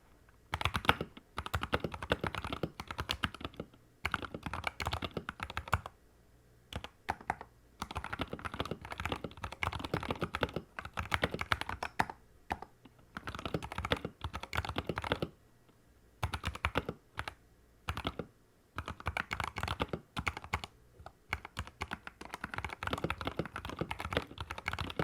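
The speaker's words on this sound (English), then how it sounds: "just show you what it sounds like typing" Typing on a Skyloong GK75 gaming keyboard: rapid bursts of close, crisp key clacks that run for several seconds, broken by short pauses, with no voices.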